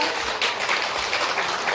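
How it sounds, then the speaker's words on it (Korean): Audience applause welcoming a student singer at a year-end church service award ceremony, a steady wash of clapping held at even loudness through the whole stretch. "큰 박수로 환영해 주시기 바라겠습니다"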